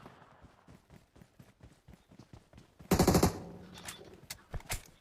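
Gunfire in the mobile battle royale game PUBG Mobile: a rapid run of light shots, then a louder, denser burst of automatic fire and scattered single cracks, all close and sharp.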